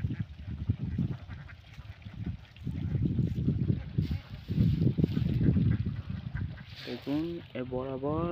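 Ducks quack in a pond, their calls mixing with steady talk through most of the stretch, with clearer rising duck calls standing out near the end.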